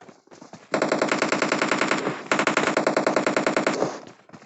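Sustained automatic gunfire in PUBG Mobile, loud rapid bursts fired in two long strings with a brief gap between them and no talking.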